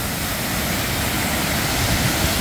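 Steady, loud roar of a waterfall beside a stone trail in Bergen, Norway, a dense rushing wash of water that stays constant throughout, with no voices.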